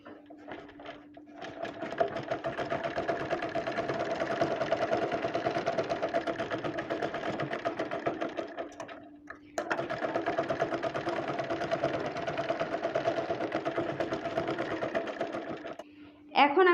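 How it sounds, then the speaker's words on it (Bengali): A sewing machine stitches fabric for baby pants in two long, fast, rattling runs separated by a brief pause near the middle. A voice is heard along with the machine. "এখন আমি সেলাই করার সুবিধার জন্য এই দুটি পার্টকে একত্রে করে প্রথমে আমি এই অংশটা, তারপরে এই অংশটা সেলাই করে নেব।"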